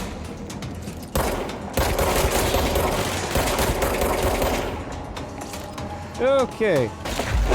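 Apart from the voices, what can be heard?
wall being blasted into chunks, video game Control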